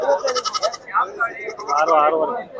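At the weekly Sira goat market, a young goat kid bleats repeatedly up close with a series of wavering, nasal cries separated by short pauses.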